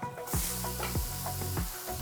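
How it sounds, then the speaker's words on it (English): Garlic and leek sizzling in olive oil in a pot, a loud crackling fry close up, with a few scraping stirs breaking the steady hiss. "Olive oil into your pot and add your garlic and leek to the party."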